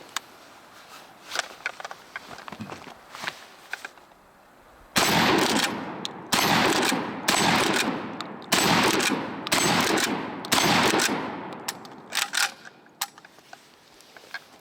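A TR Imports XP15 pump-action 12 gauge shotgun fires a string of loud, close blasts, roughly six or seven evenly spaced shots, after several seconds of quieter handling sounds.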